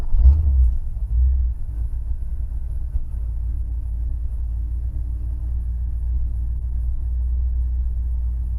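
A 1969 Pontiac Firebird rumbles with a steady low engine drone that stays even and close, with no clear revving or pull-away surge.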